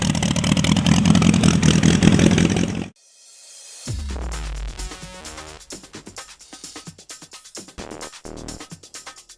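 A restored Henderson motorcycle engine with largely fabricated parts, first a dense roaring run, then a brief cutoff, then a thumping restart that settles into a loud, clattering, uneven idle nearby.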